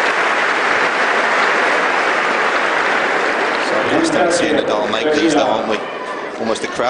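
Tennis crowd at a 2010 Rome semifinal between Gulbis and Nadal bursts into loud, sustained applause that fills the whole stretch, with a commentator's voice rising over the clapping in the latter part.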